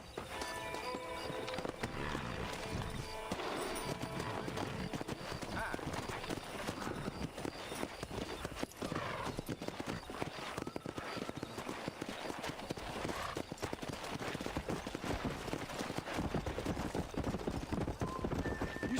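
A pack of wild horses gallops near a ranch in the Red Dead Redemption video game, with rapid hoofbeats and occasional whinnies running steadily under voices talking.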